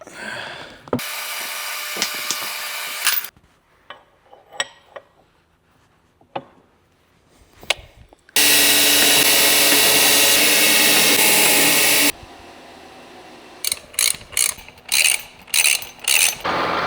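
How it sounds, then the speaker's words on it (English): Grinding brazing off the jaw of a massive 1916 bench vise: two long steady bursts of loud, harsh grinding, with quieter scraping and handling between and a run of short grinding passes at the end. "take the dynamic jaw into the grinding room, and start gently cleaning off this brazing here"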